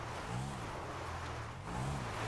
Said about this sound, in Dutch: Zie je die motor zo raar doen?